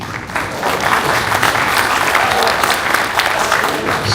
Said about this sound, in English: Please, round of applause for our President Hemant Patel.